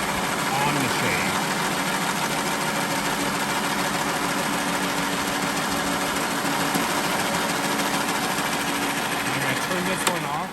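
A Hatsuyuki HC-8E shaved ice machine runs steadily, set for a light shave, giving a constant loud motor whir and grinding hum with no breaks.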